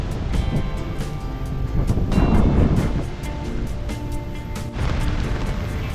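Strong monsoon wind with rain in a jungle by the sea in Kerala roars as a dense, broadband rush, buffeting the microphone with gusts that swell and ease, loud and continuous without speech.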